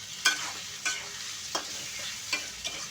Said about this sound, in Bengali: টমেটোটা পেঁয়াজের সাথে একটু ভাজা ভাজা করলে কী হবে নরম হয়ে যাবে তাড়াতাড়ি